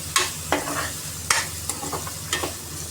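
Ginger-garlic paste fries golden in a pan for a Telugu mutton curry with a soft, steady sizzle, and several sharp spatula scrapes and taps fall at irregular intervals close by.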